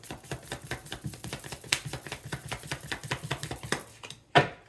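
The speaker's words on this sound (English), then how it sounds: "One more shuffle." Rapid, rhythmic riffling of tarot reading cards, a steady series of crisp flutters, ending in a single sharp tap as the deck is squared.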